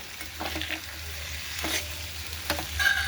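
Mixed vegetable curry with okra frying in a pan while being stirred, a steady close sizzle with scraping spoon strokes at irregular intervals, no talking.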